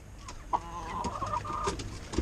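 A chicken clucks close by, a few short throaty calls over faint background noise.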